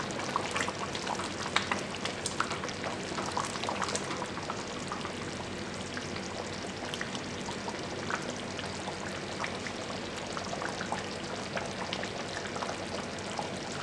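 White chicken korma bubbling in a pan with oil separating, a soft, dense simmering crackle like light rain, occasional stirring scrapes, steady and fairly quiet with no voices.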